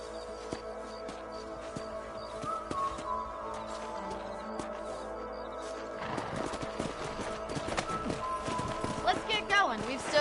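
Horses clip-clopping in the Red Dead Redemption video game, hooves tapping steadily with a horse whinny in the mix, the hoofbeats growing busier and louder in the second half.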